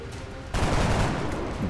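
A dense burst of gunfire in the strategy game XCOM Long War begins abruptly partway through and carries on loud and continuous, ringing out to the end.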